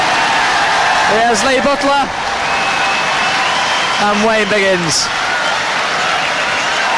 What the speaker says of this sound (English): Each of the players getting their own applause